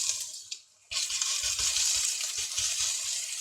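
Homemade potato gnocchi frying and browning in oil in a pan, a steady close hiss of sizzling after a brief quiet start, with faint scraping taps from stirring.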